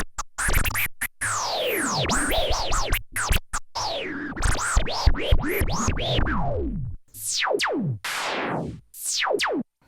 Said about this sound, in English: I love that zap.